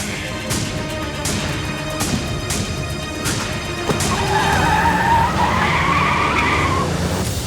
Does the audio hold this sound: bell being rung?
no